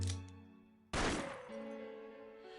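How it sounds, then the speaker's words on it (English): A single loud gunshot fired into a security camera lens in the fighting game Persona 4 Arena Ultimax cracks in suddenly over sustained game music tones, then rings out with a shattering, decaying tail. "He fires in the lens of the security camera and the room is shatters to pieces, accompanied by the ear-splitting sound of gunfire."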